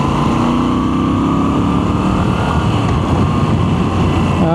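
Moto Guzzi V7 Stone motorcycle engine pulling hard in third gear, a steady loud droning exhaust note with rising tones throughout, close and continuous with no talking.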